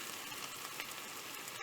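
Beef vindaloo masala frying in a pan, a steady close sizzle with soft crackles throughout.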